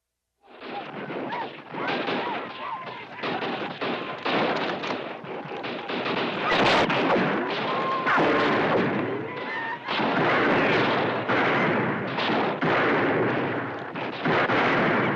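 Gunfire in an old western town in Idaho, a dense barrage of loud overlapping shots and booming reports sustained throughout, close and continuous.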